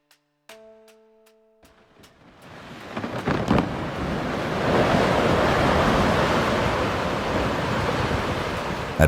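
Powerful coastal storm with heavy surf. A few faint tones and soft clicks give way to rising wind and the roar of crashing waves, which builds into a loud, sustained wash of noise.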